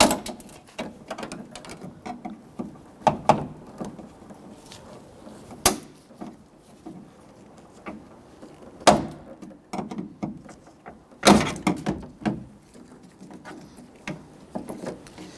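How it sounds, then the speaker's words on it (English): Scattered plastic clicks and snaps from removing plastic retainers from a 2011-2017 Nissan Quest door panel, with a few sharper pops standing out among quieter rustling and tapping nearby. "remove the little retainers here from the door panel."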